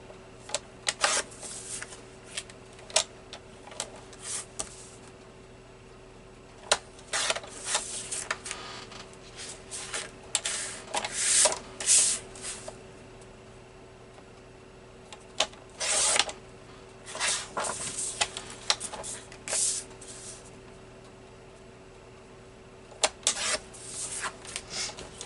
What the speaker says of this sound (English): I'm putting all these on the same spot on my trimmer when I'm cutting them